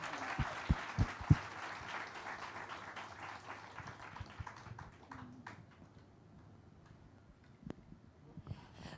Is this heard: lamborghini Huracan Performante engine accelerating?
no